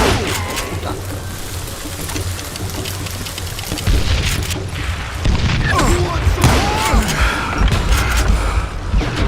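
Gunfire in a Wild West video game: scattered sharp shots and crashing bursts over a steady, rain-like ambient wash, growing louder and busier in the second half.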